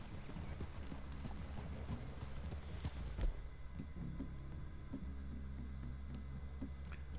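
Horse hooves clip-clop in a quick rhythm in the video game Red Dead Redemption 2, faint and muffled, fading to a quieter background hum partway through.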